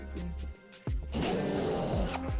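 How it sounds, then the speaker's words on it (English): A power drill bores a hole into a wall for lag screws to hold a TV mount: a few light clicks and handling noises, then a loud, close whirring burst of about a second. "next I'm going to grab my drill and make the 4 holes required to run the lag holes into the wall"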